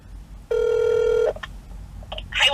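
Phone on speakerphone ringing once in a single long electronic tone, followed by brief clicks and a short burst of sound as the call connects.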